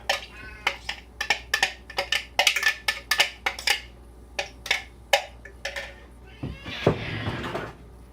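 Cats call out in a kitchen amid a flurry of sharp clicks and clatters like dishes and cutlery, with a louder drawn-out meow-like cry near the end.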